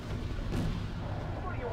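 A deep rumbling artillery boom from the game Wargame AirLand Battle, one low heavy blast that rolls out over under two seconds, dense and muffled with a voice talking beneath it.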